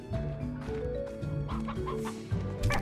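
Chicken clucking in the video game Slime Rancher, a few soft, rhythmic clucks over quiet game music and ambience, with no talking.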